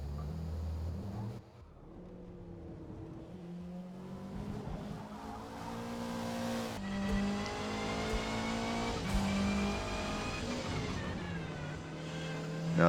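A Subaru Levorg GT race car in Forza Motorsport at the Nürburgring revs hard through gear changes, its engine note climbing and dropping repeatedly with tire squeal, loud and continuous throughout.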